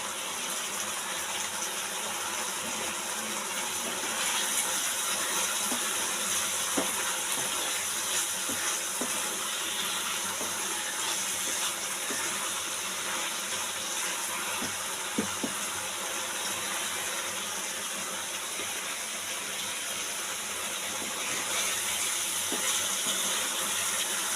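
Water poured into a pan of rui kalia curry simmering with green chillies, Kashmiri chilli and garam masala, giving a steady broad gushing hiss that holds evenly throughout at close range, with no voices.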